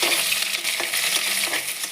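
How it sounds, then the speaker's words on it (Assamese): A pan of onions crackles in hot oil as the base of a fish curry, with an even, loud, close sizzle and faint stirring scrapes throughout and no talking. "পিঁয়াজখিনি অলপ ভাজি থাকিম"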